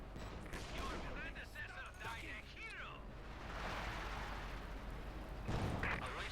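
Panzer IV tank cannon fire in a World War II strategy game battle, with booming shots and explosion rumble spread across a busy mix of gunfire, while a commentator talks over it.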